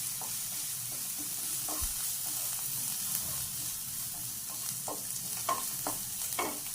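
Onion, green chilli and curry leaves sauté in a pan with a soft continuous sizzle, broken by faint scrapes and clicks of stirring, quiet and close with no voices.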